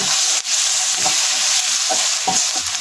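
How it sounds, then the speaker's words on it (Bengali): Garlic and ginger paste frying with browned onions for chicken haleem, a steady hot sizzle with a few scraping stirs of a spoon against the pan, close and alone. "দিয়ে দিচ্ছি 1 চামচ রসুনের পেস্ট, আধা চামচ আদার পেস্ট। এগুলোকেও আমি একটু ভেজে নেব।"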